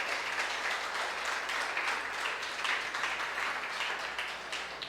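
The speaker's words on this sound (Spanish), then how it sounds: "le puede dar un aplauso al Señor" Sustained applause fills a church congregation, a dense, steady wash of many hands clapping together without a break from start to finish.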